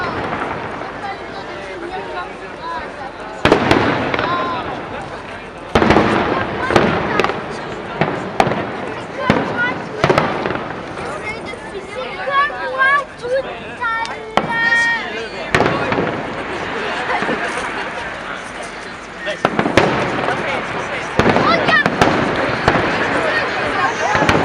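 Fireworks burst in a string of sharp, loud explosions with irregular gaps, some crackling, heard from a spot floating along a waterway as people talk nearby.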